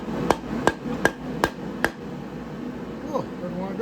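Five sharp hammer taps on a part during a 1984 Chevy square-body truck rebuild, evenly spaced and close, then stopping as faint background noise and brief talk follow.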